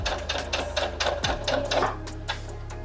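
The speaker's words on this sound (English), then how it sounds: "And then you actually backstitch." A sewing machine stitches fabric for a banquette bench cushion, running in a fast, steady mechanical rattle with short pauses and bursts as the seam is sewn and backstitched. The sound is close and moderately loud, with no talking.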